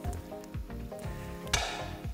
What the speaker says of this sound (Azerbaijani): Kərə yağını əlavə edirəm qazana